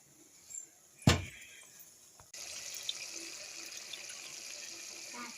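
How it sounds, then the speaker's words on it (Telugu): Water poured into a pot of curry (pesara punugula curry) on the stove, starting with a sharp splash and settling into a steady, moderate pouring hiss that runs to the end, with no talk. "కొంచెం ఒకసారి వాటర్ వేసానండి"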